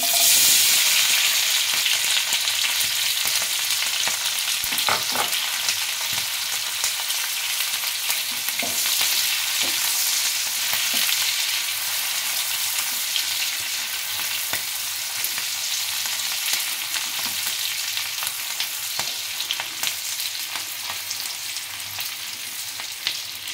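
Cubed onions fry and sizzle steadily in hot oil in a pan for Bengali chilli bhetki, with scraping stirs now and then over a constant loud crackle and no voices.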